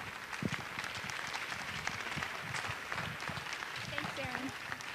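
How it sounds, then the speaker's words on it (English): A conference plenary audience applauds a speaker, a steady, moderately faint patter of many hands with voices mixed in. "Round of applause for Diana."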